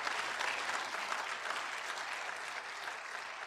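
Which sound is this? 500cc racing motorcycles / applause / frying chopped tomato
applause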